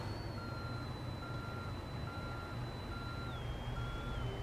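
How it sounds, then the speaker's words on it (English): Truck in American Truck Simulator backs up with evenly spaced reversing beeps over a steady low engine rumble, the beeps moderately loud and regular. "we need to back this thing up as straight as we possibly can, like so"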